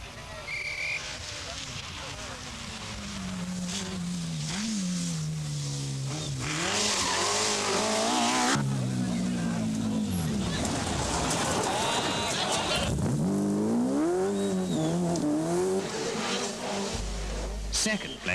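A Ferrari rally car races on a stage in France, its engine revving loudly up and down through gear changes with bursts of tire squeal, under a commentator's continuous voice.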